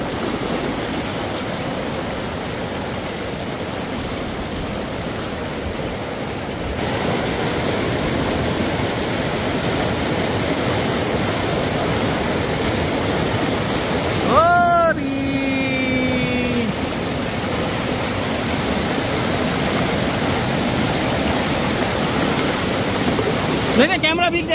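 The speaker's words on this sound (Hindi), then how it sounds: "ये पानी बहुत तेज बह रहा है गाइस।" Fast-flowing mountain stream in Uttarakhand near Dehradun, a steady broadband rush of water running throughout, with a brief whistle-like tonal sound in the middle and people talking faintly at times.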